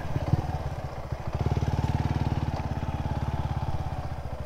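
A motorcycle engine runs close by, a steady fast low putter with a regular pulsing beat throughout, outdoors at a campsite on a mountain.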